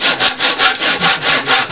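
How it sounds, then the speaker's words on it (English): A handsaw cutting through wood for a rustic bed frame, making steady back-and-forth rasping strokes about four to a second, loud and close with no voices. "sometimes I just like taking a handsaw and coming in there instead of that"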